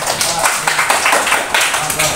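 Classmates in a fifth-grade classroom clap for a fellow student during a pencak silat lesson, a short burst of close, uneven handclaps with a few louder slaps, and voices mixed in.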